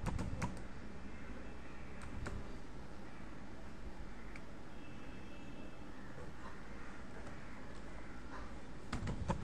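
Soft keystrokes tap on a computer keyboard as a username is typed into a sign-up form, quiet scattered clicks over a low steady background hum.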